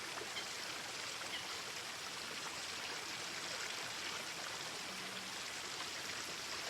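A steady flowing stream of water rushes continuously, a broad even hiss and babble held at constant level throughout with no voices.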